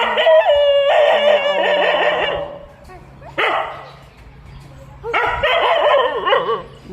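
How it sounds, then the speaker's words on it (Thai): A dog barks in sharp, close bursts, several quick barks in two bouts separated by a brief pause, with people talking nearby. "เห่าเลย"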